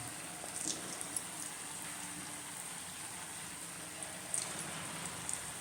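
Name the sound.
jackfruit sweet bonda frying in oil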